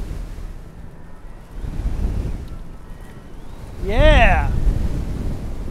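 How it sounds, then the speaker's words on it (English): Strong headwind and surf noise rush past while riding an eFoil on open water, a steady wind roar with wave wash throughout; someone speaks briefly near the end. "Getting to a strong headwind."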